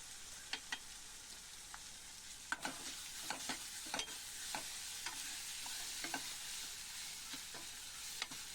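Tomatoes with turmeric sautéing in a pan for a Tamil brinjal fry, with a steady soft sizzle under repeated sharp clicks and taps of a spoon stirring against the pan.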